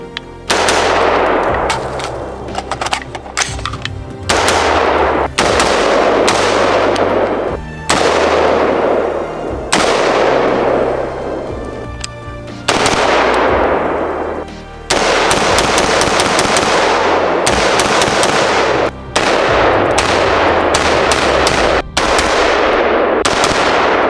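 Rapid bursts of rifle fire from a budget PSA PA-15 AR-15 under test, loud and close, coming in repeated strings of quick shots separated by brief pauses, with no talking.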